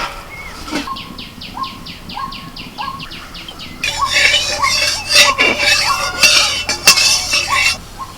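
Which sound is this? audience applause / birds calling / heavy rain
birds calling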